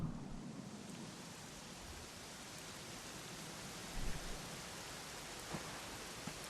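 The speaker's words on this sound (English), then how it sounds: "it was raining like this the last time I ever saw her" Steady rain falls in the video game Dragon Quest XI, a continuous broad hiss with a low rumble underneath and a few soft louder patters, no voices.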